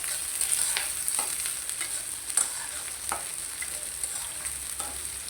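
Chopped onion and green chili frying in a pan, a continuous close sizzle broken by regular scrapes and clicks as the mixture is stirred.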